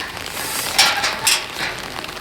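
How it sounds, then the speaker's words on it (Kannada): Steady rain falls outside a house, a dense, even hiss that swells briefly a few times, with no voices over it. "ಕ್ಲೀನಾಗಿ ಮಳೆ ಬಂತಲ್ಲ"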